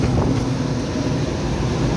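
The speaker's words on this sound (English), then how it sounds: "Both my fans and my ERV wheel is running." Old, neglected Trane Voyager rooftop unit running with its fans and ERV wheel turning outdoors, a steady low rumbling whoosh of blowers, constant and close with no breaks.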